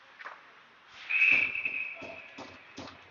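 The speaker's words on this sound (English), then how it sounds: "And Caden makes a nice save there to get a whistle and a change of lines." At a youth ice hockey game, a referee's whistle blows one sustained shrill blast from mid-distance amid faint rink noise and light taps.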